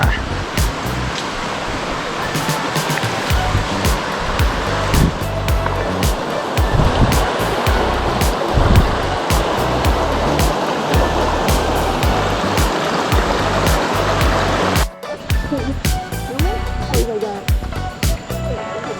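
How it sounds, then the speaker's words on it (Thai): A waterfall and rushing stream on a forest hike roar continuously and loud close by, a dense steady wash of water with brief voices talking over it. "แต่ว่าน้ำตกแล้วนะ"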